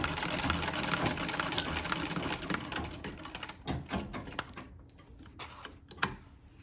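Singer Model 15-30 sewing machine running a zigzag stitch, a steady fast mechanical whir and clatter up close that slows and breaks into short bursts toward the end.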